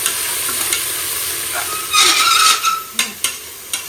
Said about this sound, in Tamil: இப்போ வந்து இதில் புதினாவும் கொத்தமல்லி நம்ம வந்து சேர்த்துக்கலாம். சேர்த்து நம்ம வதக்கி